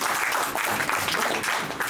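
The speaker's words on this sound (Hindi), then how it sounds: "तो हम चाहेंगे इस प्रोडक्ट के लिए एक बार जोरदार तालियां होंगी" Audience applause at a GSRC leaders' meeting, greeting an aloe vera product: a dense, steady wash of many hands clapping together, fairly loud and sustained for the whole stretch with no voices over it.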